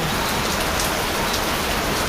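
Heavy rain pours down in a dense, steady hiss, drumming hard on nearby surfaces with no pauses.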